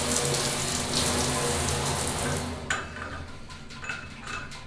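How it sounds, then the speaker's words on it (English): Cold water pours from a hotel bathroom tap in a steady hiss, then thins out and stops, leaving faint clinks and drips. "It's cold water."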